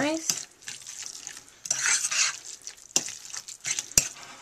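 Guacamole ingredients mixed in a bowl: soft, wet stirring swishes punctuated by a few sharp clinks of a utensil against the bowl, close and quiet, with no speech.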